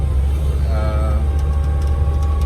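A Suzuki Jimny Katana rolling along a road with its window down, a steady low engine and road rumble filling the cabin throughout, with a brief tonal whine partway through.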